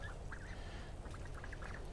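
Ducks in a backyard pen of a Florida food forest give short, nasal honking calls in scattered bursts, fairly close over a steady background hiss.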